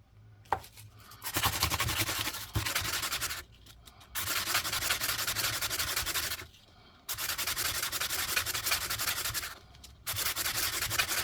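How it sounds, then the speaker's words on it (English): Sandpaper rubbed against an old Australian bronze one penny coin being made into a ring, coarse gritty sanding in long bursts of a few seconds separated by short pauses, close up and alone. "I need to get some more sandpaper, don't I?"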